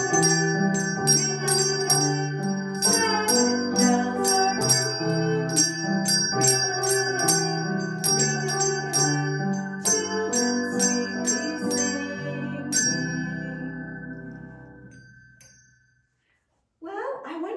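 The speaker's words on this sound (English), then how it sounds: "It's time to ring our Sabbath bells." Small handbells are rung together in a steady, bright jingling for a Sabbath School welcome, continuous and fairly loud before fading away, with a brief burst of another sound at the very end.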